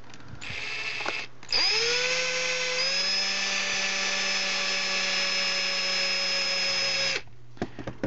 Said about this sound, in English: I use a Allen key mounted on my drill